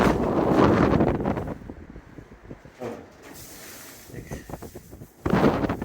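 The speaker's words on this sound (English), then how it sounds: "there's a big gust of wind that just came through" A strong gust of wind blows through a trail shelter with windows and a missing pane, roaring loudly at first, easing into rustling, then surging again at the end; no talking.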